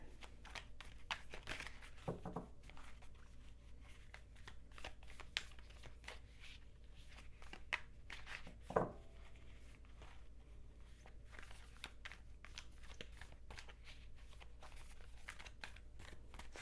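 Tarot cards shuffled by hand during a love reading, a soft, faint, continuous papery riffling with a few sharper card snaps standing out, heard alone without talk.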